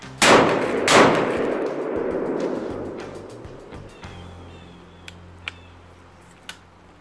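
Sawed-off shotgun firing outdoors, two loud booming blasts about a second apart that ring out and decay slowly, followed by a few faint metallic clicks and ticks of handling.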